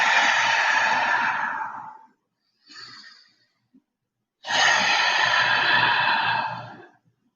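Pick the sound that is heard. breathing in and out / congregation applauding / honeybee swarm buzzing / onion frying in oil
breathing in and out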